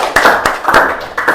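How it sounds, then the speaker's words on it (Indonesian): Classroom students clapping together, several sharp distinct claps in bursts at close range, loud and uneven in rhythm. "tepuk tangan untuk kita semuanya"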